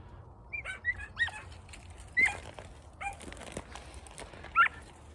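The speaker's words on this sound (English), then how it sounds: "the one on the right is barking on a scent" Hunting dogs sound off on a rabbit hunt near pine trees, with several short, distant barks and yelps scattered over outdoor ambience, one of them barking on a scent.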